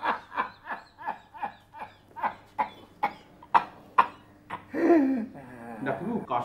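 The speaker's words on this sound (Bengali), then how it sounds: "দেখো কাশিটা খুব বেড়েছে, একটানা কাশতে থাকেন।" An ill older man coughs repeatedly in a rapid string of hoarse bursts, followed by a longer raspy wheezing cough, heard close up indoors.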